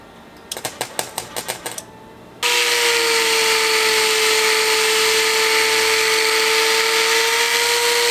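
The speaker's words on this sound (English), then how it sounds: "I gotta wire wheel all the rest of the bottom sides of the seam up here" A wire wheel is spun up to clean welded seams in a Honda Integra engine bay. A short burst of sharp clicking comes first, then a loud, steady high-pitched whine with harsh broadband scraping that continues close and alone.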